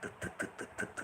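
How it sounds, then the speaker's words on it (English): A small-capacity engine on a three-wheeler tricycle putters with a steady, even pulsing rhythm, heard up close and faint. "Very nice sound, isn't it? Small engine, small capacity"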